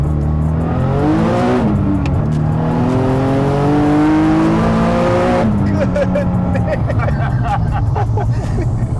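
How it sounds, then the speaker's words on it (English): Nissan 370Z street car tuned to about 900 wheel horsepower accelerating hard from inside the cabin, the engine climbing through gears with loud rising whines, a gear-change break, then another surge, with passengers talking. "Let's go for a ride and see what this car does."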